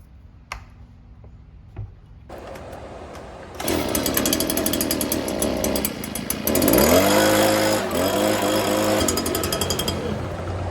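A Stihl BG 56 handheld leaf blower starts after maintenance and runs loudly with a rapid two-stroke buzz, revving up and settling at a steady pitch after a few clicks and pulls.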